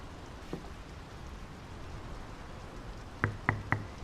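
Rain picking up in the game Draugen, a faint steady patter with a few sharp knocks near the end, three in quick succession.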